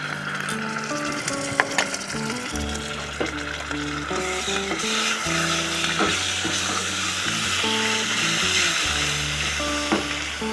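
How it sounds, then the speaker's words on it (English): Cumin seeds, asafoetida and fresh garlic-ginger paste sizzle and spit in hot olive oil for an eggplant curry, a steady close fry broken by scraping and clinking of a spoon stirring the pan, with no voices. "Then I'm going to add cumin seeds, Asafoetida, and fresh garlic and ginger paste."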